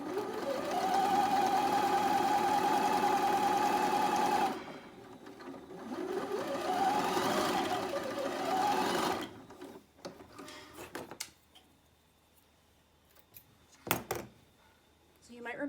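A sewing machine stitches the sides of a dress bodice, running at a loud, steady whirring hum for a few seconds, then again more briefly, followed by quieter clicks and handling noises.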